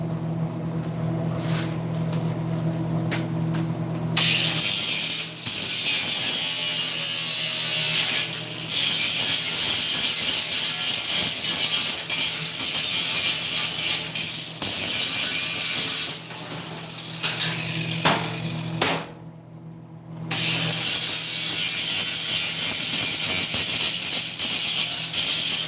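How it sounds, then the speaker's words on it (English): Angle grinder working on the metal seat frame of an old military jeep, a loud, steady grinding that runs nearly the whole time, with brief pauses and one longer drop near the end. "I'll grind that off and tell."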